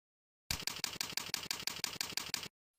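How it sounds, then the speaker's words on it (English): Rapid even keystrokes on a computer keyboard as a mail message is typed, about a dozen crisp clicks in steady rhythm over two seconds, close and with no voice. "Type your message."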